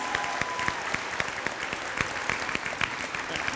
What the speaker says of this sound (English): So let's give these students a huge round of applause for their great